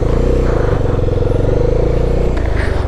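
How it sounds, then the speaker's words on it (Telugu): A Bajaj Dominar 400 motorcycle idles and pulls steadily through a water crossing on a Himalayan road, its close, loud engine holding an even rumble with a slight shift near the end. "మన బైక్ ఈజీగా వెళ్ళిపోతుంది"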